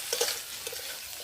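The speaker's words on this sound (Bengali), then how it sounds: "এই তেলে সয়াবিন ভেজে নেব।" Soybean chunks frying in a mix of oil and ghee for vegetable pulao give a steady near sizzle, with a few soft stirring clicks early and midway, no voices.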